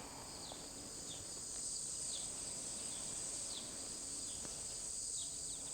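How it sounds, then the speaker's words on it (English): Insects buzz and trill faintly in a steady outdoor drone, with occasional soft chirps drifting over a quiet background. "the bugs buzzing"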